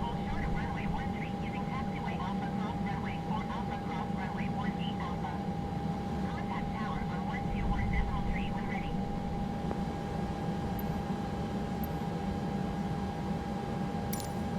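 A steady, loud airliner engine drone holds constant while taxiing in Microsoft Flight Simulator 2020, with a voice talking to ground control over it throughout.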